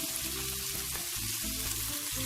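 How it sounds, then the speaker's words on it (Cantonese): Gizzard and celery stir-fried in a hot wok, with a steady close sizzle and faint scraping of the stirring throughout, no voices. "呢個糖芹啦、回嘅呢個腎球咧，基本上都熟嘅，我哋唔需要炒佢好耐"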